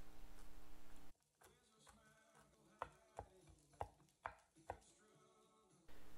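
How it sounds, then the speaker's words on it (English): Walnuts are cut with a knife on a board, giving a string of sharp, separate chops, close up and fairly quiet, with soft kitchen background noise before and after. "And cut walnuts."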